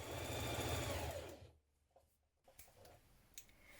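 A sewing machine stitches a trouser side seam in a fast, whirring run close by, then stops, leaving a few light clicks and handling sounds.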